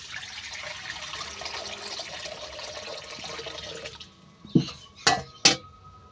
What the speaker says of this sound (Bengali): প্রথমে কড়াই জল দিয়ে দিলাম।